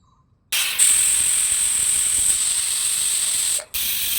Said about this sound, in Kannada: ನಾಲ್ಕು ವಿಸಿಲ್ ಆಗಿದೆ ನೋಡಿ.